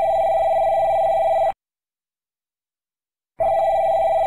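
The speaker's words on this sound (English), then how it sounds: "answer the damn phone" A telephone rings in the JoeCartoon game The Boss: a loud electronic ring that stops for about two seconds, then starts again.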